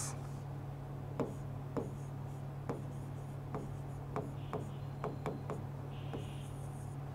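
Chalk or marker strokes on a board during a physics lecture on vectors tap and scratch in short, irregular bursts over a steady low hum, fairly close and with no talking.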